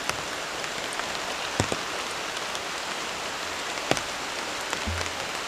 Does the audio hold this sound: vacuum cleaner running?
no